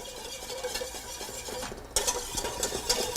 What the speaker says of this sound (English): we just whisk this now for about 2 minutes until it becomes a nice, light, and foamy mixture